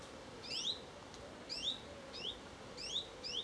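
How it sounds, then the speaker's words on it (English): A warbler sings in the treetops along a Norfolk trail near Hoveton and Wroxham, repeated short high rising chirps in clusters, fairly distant and faint over a soft outdoor background. "Some kind of warbler that."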